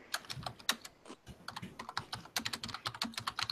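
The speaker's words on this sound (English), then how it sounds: "someone is typing hardcore" Fast, uneven clatter of keys being struck on a computer keyboard, close up and fairly quiet, with brief pauses between bursts.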